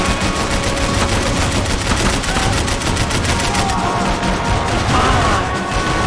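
Dense, continuous gunfire in Max Payne 3, with rapid repeated shots and bullets whizzing past, loud and close, with no pauses throughout.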